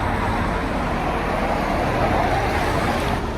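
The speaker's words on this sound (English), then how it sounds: "you just hear the cars and the wind" Steady roadside traffic roars past at an outdoor boxing workout spot, a continuous broadband wash of cars and wind with no talk, loud and unbroken throughout.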